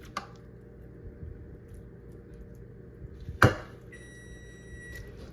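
An oven beeps in a home kitchen during low-carb Mexican casserole prep, giving a steady electronic tone for about a second right after a sharp clatter, over quiet room noise.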